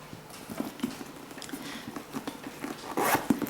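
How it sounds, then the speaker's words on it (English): Zipper on the side pocket of a Louis Vuitton Monogram Neo bag being pulled open, a close, quick series of short rasping ticks that grows louder toward the end. "when you unzip the pocket on that side where the zipper ends"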